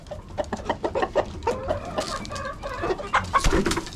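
Rhode Island Red chicks cluck and cheep in a close, busy chorus of short overlapping calls that run without a break, with no talking.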